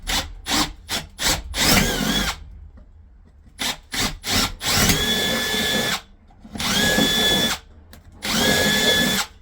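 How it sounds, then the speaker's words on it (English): An electric drill with a 10 mm bit whirs through wood in a run of short quick bursts, then three longer steady grinding passes with pauses between them. "I'm going to get my 10 mil drill bit"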